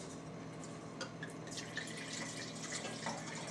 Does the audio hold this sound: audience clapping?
no